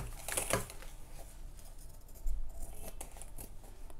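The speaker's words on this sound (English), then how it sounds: "Okay, so I'm just going to cut it off now." Scissors snip through Ankara fabric in a few close, crisp cuts, with a brighter cluster early on and a soft thump midway, over quiet room tone with no talking.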